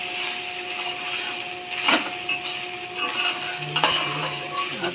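A spoon scrapes and stirs washed, softened flattened rice (chira) with cashews and raisins in a pan, a steady close scraping and clinking over a faint frying hiss, with a few sharper knocks and no voices.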